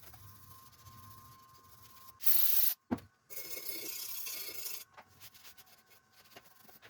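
A Toyota Avalon water outlet is cleaned by hand, with a short sharp spray burst, a sudden knock and then a longer steady hiss, over quiet rubbing in a close, otherwise still space.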